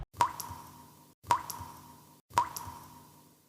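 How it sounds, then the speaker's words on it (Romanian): Single water drops fall one at a time, three distinct plops at a slow, even interval, each with a short resonant ring that fades into quiet; nearby and alone. "picură câte o picătură de apă"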